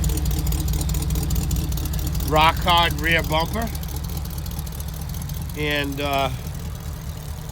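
A 1978 Jeep CJ-7 with a V8 and full dual stainless exhaust idles steadily with a low, even rumble, while someone talks briefly over it.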